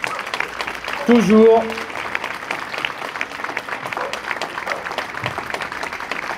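A crowd claps steadily throughout a French 14 July civic ceremony, with a brief spoken word near the start.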